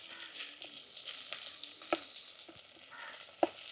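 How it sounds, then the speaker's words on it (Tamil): Mustard seeds and onions fry in a hot pan with a continuous faint sizzle, broken by a few sharp pops and light stirring clicks, no voices present. "கடுகுலாம் நல்லா பொரிஞ்சிட்டு அப்படியே வெங்காயத்தை போட்டுக்கணும்."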